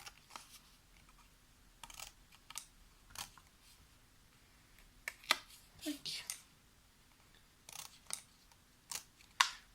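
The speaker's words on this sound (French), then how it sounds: "C'est pas trop pratique avec mon grand ciseau" Large scissors cut paper for a small scrapbook gift bag, irregular crisp snips in short bursts, close and fairly quiet, against a near-silent background.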